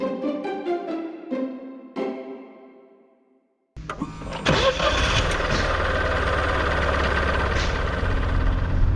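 A Fiat 500c engine turns over after a few chimes and then runs with a steady, loud drone, with no talk over it.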